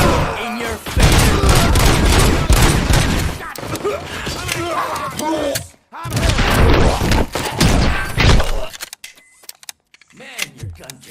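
Rapid bursts of gunfire from the video game RoboCop: Rogue City, loud and sustained with booming impacts through most of the stretch, a brief gap midway, then thinning out toward the end as someone talks over it.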